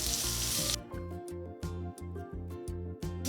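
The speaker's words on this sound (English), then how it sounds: "We are going to fry this till the onions are slightly pink in color." Sliced onions and cumin seeds fry in hot oil, starting with a loud burst of sizzling, then settling into a softer, steady close crackle while a rhythmic background beat pulses underneath.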